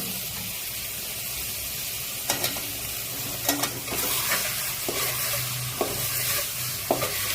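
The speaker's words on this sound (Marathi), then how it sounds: "आणि आता मी ह्याच्यात टाकते हे चिकन शिजायला।" Chicken sizzling in a hot pan under a constant crackle, punctuated by several sharp scrapes and taps of a spoon stirring it.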